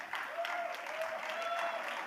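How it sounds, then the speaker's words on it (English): Steady applause from a summit audience welcoming a guest onto the stage, a dense, even wash of many hands clapping throughout, with faint voices mixed in. "A louder round of applause."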